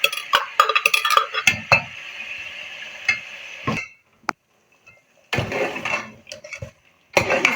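Chicken with blackened onions gets stirred in a pot, giving loud bursts of metal spoon scraping and clanking against the pot with a light sizzle beneath, broken by short quiet gaps.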